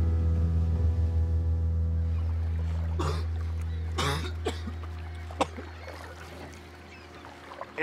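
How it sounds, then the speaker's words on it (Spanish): A man's harsh coughing fit outdoors near water: a few rough, wet coughs and throat clearings in a cluster, near and fairly loud, over a steady low engine-like hum, followed by fainter scattered clicks. "esa tos ya me está preocupando"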